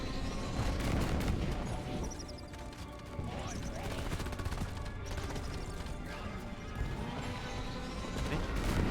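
Rapid Zhukov submachine gun fire in the video game Deep Rock Galactic, dense and continuous bursts alongside other game noise, with a voice talking over it.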